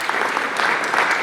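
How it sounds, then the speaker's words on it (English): An audience at an open house and oath-of-office meeting applauds, a dense, steady wash of clapping at even loudness for just over a second. "So again, round of applause."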